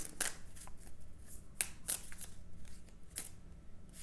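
Tarot cards are shuffled and drawn close up, giving a run of crisp riffling snaps and soft slides of card against card in an uneven rhythm, quiet and with no speech.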